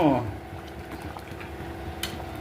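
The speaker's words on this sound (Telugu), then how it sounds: "ఇంకాసేపు ఉడకాలి ఫ్రెండ్స్" Jaggery rice payasam simmers in a pot, a soft, continuous bubbling close by, with a brief clink near the end and a person speaking over it.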